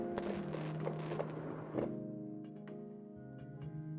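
Fireworks sound effects play during a VTuber's beach barbecue stream: a dense run of crackling pops and booms that thins out, heard over a sustained musical background.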